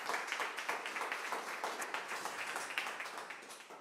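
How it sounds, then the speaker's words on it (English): Steady applause from a crowd at an annual cocktail party, many hands clapping continuously at moderate volume with no voices over it. "Let's give her a round of applause"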